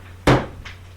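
A door shuts with one sharp wooden knock and a short trailing rattle as a guest leaves, fairly close against a steady low hum.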